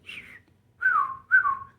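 A man imitates another man's habit of whistling while talking: three short whistled notes, the first higher and level, the next two sliding downward, close and fairly quiet with no speech.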